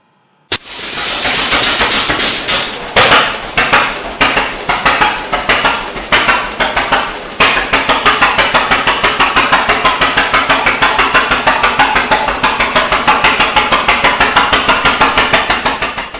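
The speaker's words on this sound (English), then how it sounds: "the reason why the tractor is so loud at the moment is because the decompression taps are open, which are required for starting" A Titan 10-20 tractor engine starts with its decompression taps open, firing loud, sharp, explosive bangs close by. The beats come irregularly at first, then settle into a rapid, steady chugging pulse.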